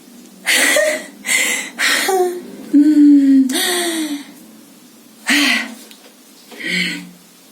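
Expressive breathing in a theatre class exercise: a series of loud, close gasps, sighs and breathy exhalations with voiced, whimper-like edges, separated by short pauses.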